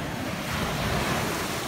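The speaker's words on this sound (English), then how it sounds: "What do you think about the beach" Ocean waves at Dewey Beach make a continuous, loud roaring wash of surf, heavily mixed with wind buffeting the microphone.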